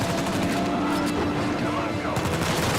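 Sustained bursts of machine gun fire rattle without pause during an Uncharted 4 firefight, loud and dense, with someone talking over the shooting.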